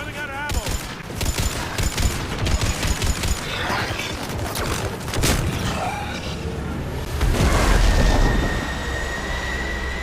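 Gunfire and explosions fill a Mass Effect 3 battle: rapid bursts of shots and repeated heavy booms, close and loud, with voices shouting over the combat.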